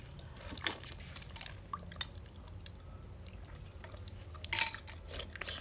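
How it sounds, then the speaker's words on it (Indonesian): Soft, wet chewing of agar jelly close to the microphone during a live stream, faint squishy bites scattered over several seconds with one louder crunch-like burst near the end, no talking. "Siapa yang makan es batu?"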